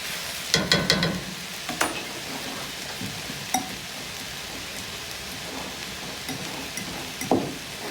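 Tofu scramble with tomatoes, onions and spices mashed and stirred in a pan, with a steady sizzling hiss under scattered scraping and clattering from the utensil, close up.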